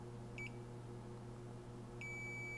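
A multimeter in continuity mode gives two short high beeps, then a longer steady tone toward the end, faint over a low electrical hum.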